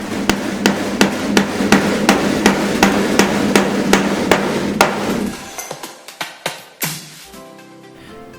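Nails hammered into a wooden solar thermal collector frame: a steady run of sharp, loud hammer strikes at a quick even pace, then slower, spaced final blows and a few lighter knocks.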